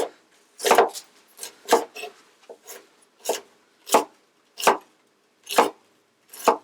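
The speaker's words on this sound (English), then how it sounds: "So just roughly chop it into smaller chunks." A sharp knife roughly chops onions into chunks on a wooden board, with about ten crisp, close, separate strikes at an uneven pace and no talking.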